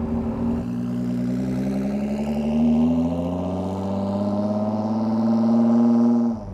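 A Ford GT's six-cylinder EcoBoost engine runs close by at a car museum, giving a smooth, steady drone that climbs gently in pitch and then settles, with no talking over it.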